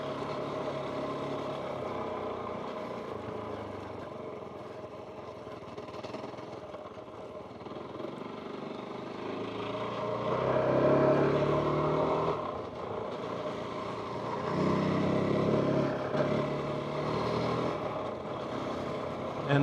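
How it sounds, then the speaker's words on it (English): KOVE 450 Rally motorcycle engine heard while riding, a steady noisy dirt-bike drone mixed with wind rush, swelling louder in the second half. "So far, I feel it and it sounds like a dirt bike."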